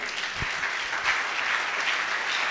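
Congregation in a church applauding, a steady, fairly distant wash of clapping from many people that continues throughout at even intensity.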